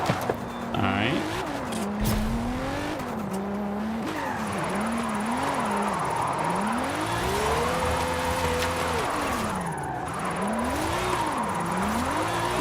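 A Lamborghini drifts in Forza Horizon 5, its engine note rising and falling in long revving sweeps while the tires squeal steadily underneath, loud and continuous throughout.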